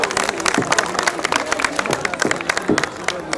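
An audience at a Hindi poetry gathering applauds loudly to welcome a poet, dense close clapping with scattered louder claps and faint crowd murmur throughout.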